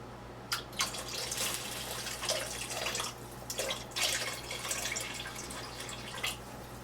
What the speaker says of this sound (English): this is just some regular tap water, guys